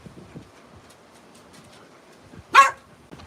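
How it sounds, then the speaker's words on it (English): A single sharp dog bark rings out after quiet, with faint shuffling sounds before it. "You have no idea what you're barking at."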